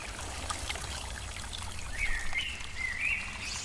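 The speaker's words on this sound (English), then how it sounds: "I must use these few minutes to fill the bamboo tubes with water." River water gurgles and trickles steadily as bamboo tubes are slowly submerged and filled, with faint bird calls chirping in the background.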